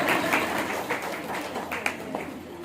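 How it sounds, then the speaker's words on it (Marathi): Audience applause fills a temple hall during a Hanuman temple sermon: dense, steady clapping from many hands, fairly loud and sustained throughout with no talking. "नाही कळालं तरी टाळ्या वाजवा."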